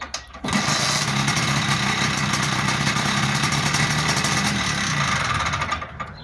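A scooter engine, cold after days unused, catches after a brief start and then runs at a loud, steady buzzing idle close by before cutting out at the end.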